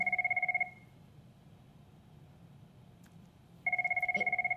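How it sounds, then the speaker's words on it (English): A classroom telephone rings with a rapid trilling tone, one burst, a few seconds of quiet room noise, then another burst begins. "someone's calling me on my classroom phone, so just give me a second"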